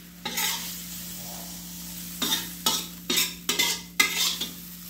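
Chicken fries in hot cooking oil with a constant low sizzle, broken by several sharp bursts of crackling and stirring, close up with no talk.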